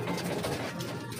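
Imbrecht pigeons, a newly acquired pair of pure German Imbrecht birds, coo softly and continuously, close to the listener, with no speech over them.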